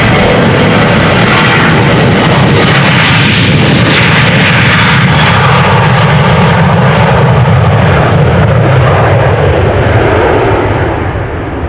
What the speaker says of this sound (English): As the KLM Boeing 737 took off in the meantime.